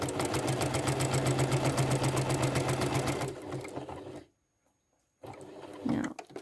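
A sewing machine stitches a quilted cross in a rapid, even buzz, then stops; after a short silence there are light handling sounds.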